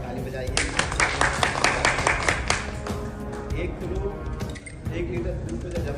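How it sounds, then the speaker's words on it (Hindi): Audience applause for Dev Singh at a Sahkar Bharati and Swadeshi Jagran Manch gathering, steady dense clapping filling the hall and continuing throughout, with voices and crowd murmur mixed underneath. "आदरणीय देव सिंह जी डॉक्टर साहब के लिए जोरदार ताली बजाइए"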